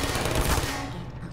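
Rapid turret gunfire from the video game Portal, a dense, loud burst of automatic shots that cuts off partway and leaves a fading tail, with no talking.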